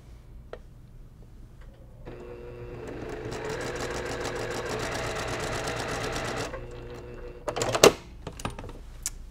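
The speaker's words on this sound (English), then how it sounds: "I'm just gonna open that up and sew these two together right where my pin was." Sewing machine stitching quilt binding, two fabric strips joined at a pinned spot: a steady rapid mechanical whir running for about four seconds, then stopping, followed by a few clicks and handling noises in a quiet room.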